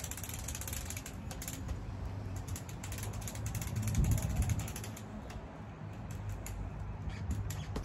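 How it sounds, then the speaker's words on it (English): Crank on a 9-foot outdoor market patio umbrella ratcheting as it opens, a steady run of fast, close clicks continuing throughout at low volume with no voices. "so let's go ahead and crank it up here"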